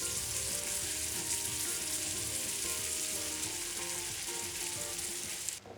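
Butter and cream caramel sizzles steadily in a pan for caramel kozhukattai, a loud, continuous close-up frying hiss with faint bubbling that stops abruptly just before the end.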